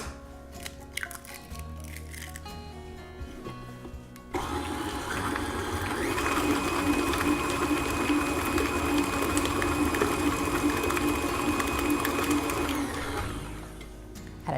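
Electric mixer whirring steadily as eggs are beaten into cheesecake batter, starting after a few seconds of clattering handling noises, running loud and continuous for about ten seconds, then stopping.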